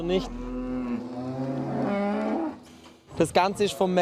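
Cows on a German dairy farm moo loudly and close by, with long drawn-out lowing calls in sequence, followed by a few shorter, choppier sounds at the end.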